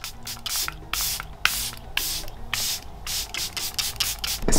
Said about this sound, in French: maintenant je reprends mon spray fixateur.